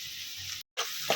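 Cumin seeds sizzle in hot oil, a bright steady crackling hiss that cuts out briefly and then resumes close up.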